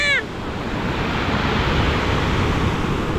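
Stormy sea surf at Divnomorskoye on the Black Coast, a loud continuous roar of breaking waves with a brief burst of sound at the very start and steady wind-like wash throughout.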